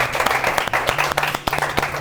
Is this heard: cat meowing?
no